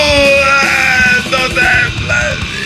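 A man screams loudly and close, a raw drawn-out yell that rises, breaks off and comes back in strained bursts.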